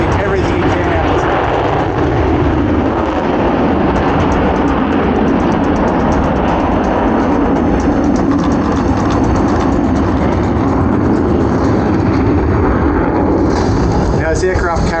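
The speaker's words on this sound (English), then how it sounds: "stick that is ripping the aircraft around at 360 degrees for a maximum turn rate." A Royal Australian Air Force F-35 fighter jet pulling a maximum rate turn at an airshow, its engine a loud, continuous broadband roar that holds steady throughout with a slight shift near the end.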